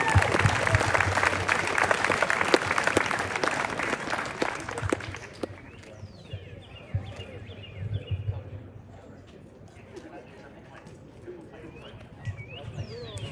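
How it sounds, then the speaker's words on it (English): An audience applauds award recipients at a high school athletic celebration, a loud burst of clapping and cheering lasting about five seconds before giving way to scattered voices and quiet room noise. "let's have a round of applause for all of these people."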